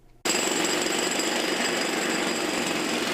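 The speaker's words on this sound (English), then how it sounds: "Sounds of jackhammers breaking concrete" Jackhammers break concrete at a construction site on the Dillard University campus, a loud, continuous rattling hammer that starts abruptly and runs without pause.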